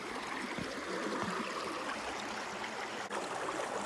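Creek water runs steadily beside a storm-damaged house, a constant broadband rush with small gurgles and trickles close by, continuous throughout with no voices.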